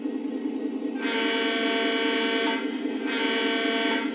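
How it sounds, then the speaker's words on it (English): Two loud, sustained horn blasts from a Lionel LionChief Plus model train engine, the first long and the second shorter after a brief gap, with steady engine rumble underneath. "I gotta blow my train horn."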